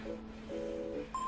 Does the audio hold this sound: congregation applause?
no